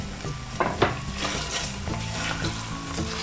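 Chopped onion browns in a little rendered chicken fat in a pan for lemon chicken, a soft continuous sizzle with a few light stirring clinks, close by and without talk.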